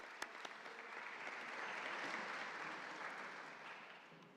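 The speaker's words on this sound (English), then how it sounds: "please applause for the chair" Conference attendees applaud the chair at an interfaith dialogue event, soft, distant clapping with a few sharp claps at the start, building slightly in the middle and tapering off toward the end.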